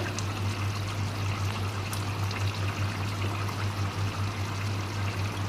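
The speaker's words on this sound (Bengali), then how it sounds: "এইবারে মুইঠাগুলো ছেড়ে দেব এই যে এইভাবে এটা ছেড়ে দিতে হবে" Soybean dumplings are dropped into a boiling curry, where the liquid churns in a steady, even bubbling wash over a constant low hum, fairly quiet and close.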